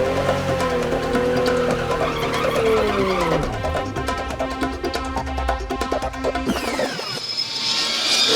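A Fast & Furious inspired Toyota Supra Turbo launches from a standstill, its engine roaring loud and close, pitch climbing and dropping through gear changes with a faint tire squeal.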